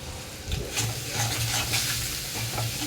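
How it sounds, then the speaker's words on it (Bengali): A pan of spices with chilli powder and salt sizzles and crackles steadily while being stirred, fairly close and moderately loud, with no one talking. "মশলাটা এবার কষবো"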